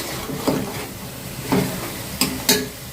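Meat frying in a pan with ginger, garlic, onion, cumin, coriander and garam masala, stirred in a few distinct scraping strokes over a steady low sizzle.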